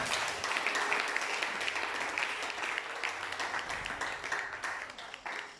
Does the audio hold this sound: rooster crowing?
no